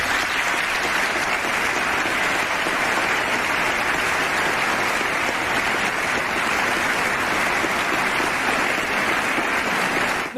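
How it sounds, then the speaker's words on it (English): Sustained audience applause at a political speech on immigration, a dense, even roar of clapping hands lasting throughout, loud and uninterrupted, with no speech over it. "notice the applause."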